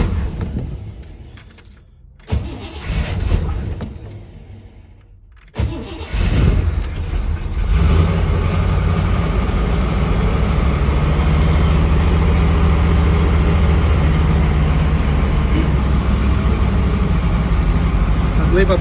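A Blazer starts from cold: keys jingle, the starter cranks in two bursts separated by pauses, and then the engine catches and runs at a loud, steady low rumble with the throttle lightly feathered, settling into an even idle.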